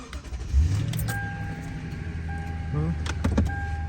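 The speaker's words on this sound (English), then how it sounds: "Gonna start the vehicle." A 2008 Toyota Tundra starting up: a short cranking rise into a steady idle hum, with chimes and a few clicks and rattles inside the cab, heard close and fairly loud.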